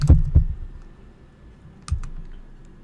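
A few keystrokes on a computer keyboard while entering a terminal command: a quick pair of soft clicks at the start, a pause, then another tap, close and dry in a quiet room.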